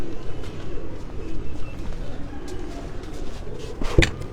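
Pigeons in a loft coo softly against a murmuring background, with a brief sharp knock near the end.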